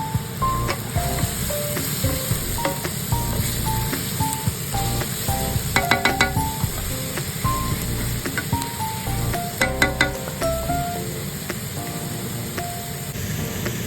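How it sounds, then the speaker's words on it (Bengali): Vegetables fry steadily with salt in a pan for Japanese fried rice, a continuous sizzle with light clinks and stirring scrapes scattered through it, close and even throughout. "এরপর সব ভালো মতো ভাজা ভাজা করে নেব আমি।"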